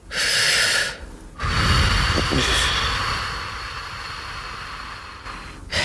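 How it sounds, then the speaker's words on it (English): One quick, sharp breath is drawn in through the nose and mouth as a single-count inhale in a calming breathing exercise, loud and close, followed by a long softer airy stretch. "So the big one count inhale."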